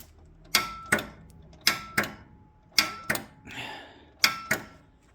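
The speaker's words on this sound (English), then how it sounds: "get nothing but the solenoid clicking" Starter solenoid on a 1971 Massey Ferguson 12 tractor clicking without engaging: sharp, close metallic clicks arriving in pairs, repeated three or four times with short pauses, one softer rattling burst between them.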